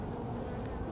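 A close, steady drone of honeybees buzzing around an open hive during a live June hive inspection, with no one speaking.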